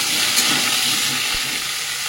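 Eggplant and mixed vegetables fry unsalted in a pan, making a continuous close hiss with a faint stir or clink partway through, no talking.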